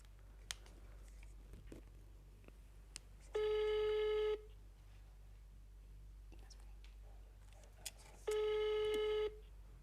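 A telephone rings out twice through a speakerphone, each long steady ring tone followed by a pause, with faint clicks and room noise in between.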